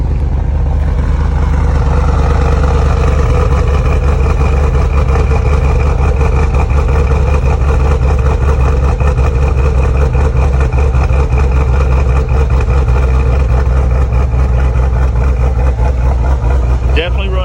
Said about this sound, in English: Very many exhaust leaks.